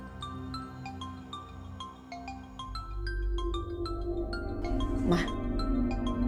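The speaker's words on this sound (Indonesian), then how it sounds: "Mama Lydia nih nelfon" An incoming phone call rings with a repeating tonal ringtone pattern of short melodic notes, heard under background music and voices, with the ringing continuing steadily throughout.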